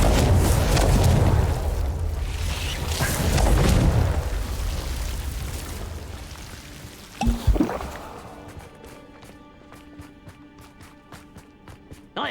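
A Confringo fire spell explodes in the video game Hogwarts Legacy: a loud, rumbling blast that swells and subsides, then a few sharp cracks. It fades into quiet, tonal game ambience.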